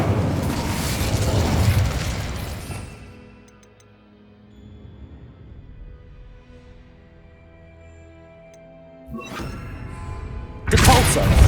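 Incendio fire spell in Hogwarts Legacy on PS5: a roaring fiery burst that swells and then decays into a quieter rumbling tail, followed near the end by another sharp, loud blast.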